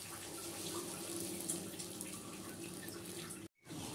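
Hot milk pours into a cooking pot in a steady, close liquid stream that runs evenly and then cuts off abruptly near the end.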